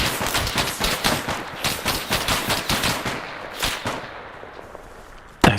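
Rapid bursts of video game gunfire from a tactical ambush match, dense automatic shots in a steady rattling rhythm that thin out toward the end, followed by one sharp close shot.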